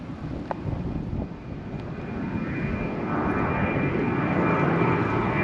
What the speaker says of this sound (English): oh look, there's a plane taking off right there.